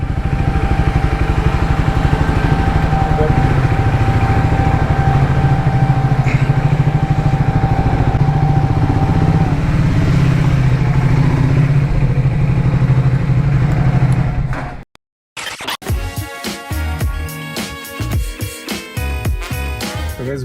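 A motorcycle engine idling nearby, a steady low rumble held for about fifteen seconds before it cuts out and music takes over.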